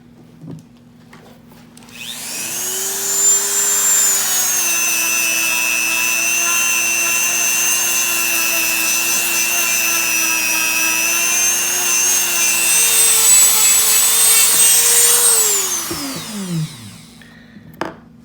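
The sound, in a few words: Dremel rotary tool with fleshing ball thinning deer cape lip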